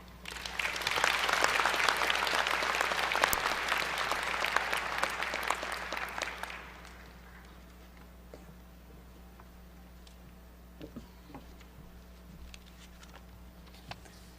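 An audience at a university event applauds a student being introduced to the podium, a dense burst of clapping for about six seconds that then fades out, leaving a quiet room with scattered small noises.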